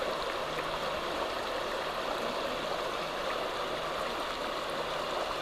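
River water flows in a steady, continuous rushing wash with no breaks, close and moderately loud, with no voices.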